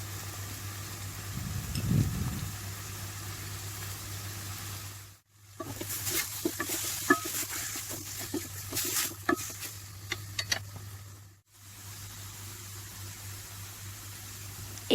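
Boneless chicken with ginger garlic paste stirred and frying in oil in a pan, a steady close sizzle with scraping stir strokes and brief pauses.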